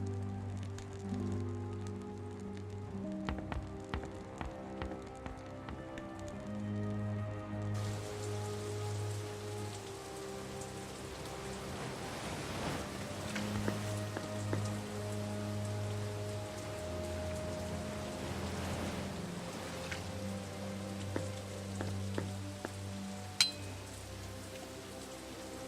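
Rain falls steadily in the fantasy adventure game The Dark Eye: Chains of Satinav, soft patter on surfaces with occasional drip clinks over a low humming musical drone, no talk.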